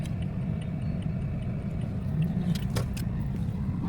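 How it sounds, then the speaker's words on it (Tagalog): Road traffic outside with a car passing, a steady low rumble of engines and tyres holding throughout, swelling slightly toward the middle, with faint higher clinks over the top. "The traffic."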